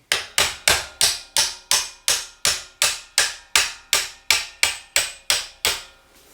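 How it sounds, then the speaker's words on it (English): A part is tapped into the gearbox of a BMW R80 custom motorcycle with a hand tool, making about sixteen evenly spaced, sharp metallic knocks, close and loud, with no talking. "Oh, I have to tap that with a thing."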